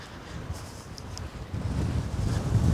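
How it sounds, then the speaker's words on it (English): Steady rushing wind buffeting the microphone at Yowah opal field in outback Australia, a low rumble that grows louder toward the end, with no voices. "I can't hear much over the wind"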